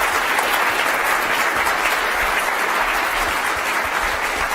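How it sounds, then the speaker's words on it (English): An audience gives a loud, dense round of applause, a continuous wash of many hands clapping at once with no break. "Can we give them a great round of applause?"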